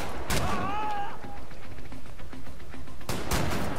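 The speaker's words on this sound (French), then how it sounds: "Fusil à pompe à distance, c'est pas l'idéal." Shotgun blasts in Wolfenstein: The New Order: one sharp, loud shot near the start and another about three seconds later, with scattered clatter and a brief tonal whine between them.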